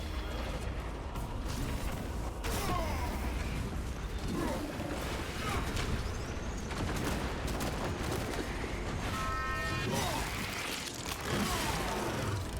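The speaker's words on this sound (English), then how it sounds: "Energize the las cannons and rain fire down on these foul creatures." Las cannons fire in a sci-fi action video game, a dense barrage of booming, crackling blasts and mechanical clanks that runs steadily throughout, with a voice speaking over the fire.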